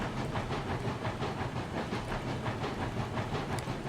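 A locomotive runs in the RailRoads Online video game with a steady, rhythmic chuffing and rumble throughout, close and continuous, with no voices.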